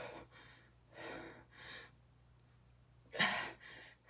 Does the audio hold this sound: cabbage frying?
no